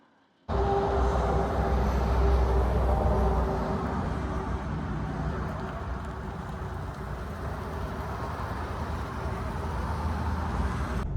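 A Volkswagen Touareg R-Line 4Motion with a 3.0 diesel on a short test drive, with a steady low engine and road drone that holds loud and continuous from start to finish, heard from inside the car.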